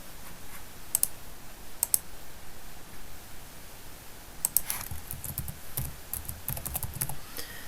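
Typing on a computer keyboard, with scattered bursts of close, crisp key clicks separated by pauses and a few sharper isolated taps, over quiet room background.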